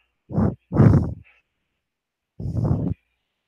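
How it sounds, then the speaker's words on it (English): A police officer breathes heavily in recorded footage: three loud, close, rough exhalations like sighs or grunts, the first two in quick succession and the third after a long silent gap. "the breathing you're hearing is the police officer."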